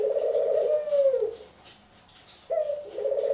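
A dove coos in a drawn-out, wavering, somewhat eerie call, followed by a pause and then a second coo starting, close and clear against a quiet background.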